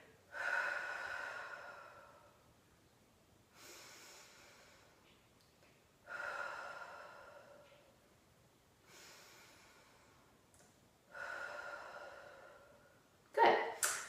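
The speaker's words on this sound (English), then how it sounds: "Breathe out and activate." Slow, controlled breaths in and out through pursed lips during a core breathing exercise, several long airy exhales separated by quiet pauses, close and fairly soft, ending with a short sharp snort-like intake.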